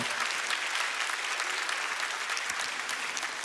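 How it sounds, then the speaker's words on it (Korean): Church congregation applauding their pastor, a dense, steady wash of many hands clapping close and loud throughout, with no voices over it. "큰 박수로 목사님께 한번 고맙드리겠습니다"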